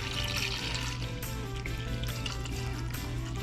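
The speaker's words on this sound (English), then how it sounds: "We're gonna add just enough water so we could" Water pours steadily into a pot, a continuous splashing rush that keeps an even level over a low background hum.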